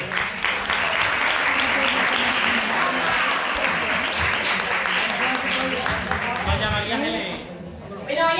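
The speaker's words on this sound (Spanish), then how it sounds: "Fuerte aplauso para él." A gala audience at an Andalusian copla association's Seville Fair special gives loud, sustained applause with crowd chatter mixed in. The clapping eases near the end as a voice speaks over the room.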